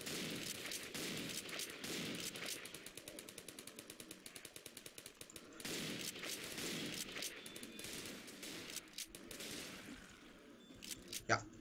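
Rapid bursts of automatic gunfire in the video game CodenameCure rattle repeatedly, loud and close, with a sustained volley in the middle and scattered shots around it.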